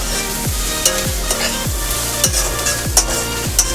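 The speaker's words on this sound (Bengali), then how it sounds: "নেড়ে আমি ভাজা করে নেব" Bottle gourd peels with boiled potato sizzle steadily in a pan over medium heat while a spatula scrapes and stirs in regular strokes, roughly two per second, close and clear with no talking.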